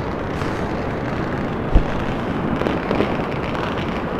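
Chinese New Year midnight fireworks and firecrackers fill the streets with a dense, continuous crackling roar, one sharper nearby bang standing out midway and more scattered pops toward the end.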